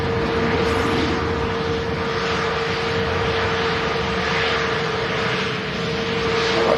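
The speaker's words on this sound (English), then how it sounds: "now we got A320 rolling off to Switzerland" An Airbus A320 takes off for Geneva from an airport in Manchester, a steady, moderately loud jet roar with a constant engine whine held throughout, heard from across the airfield with no voices.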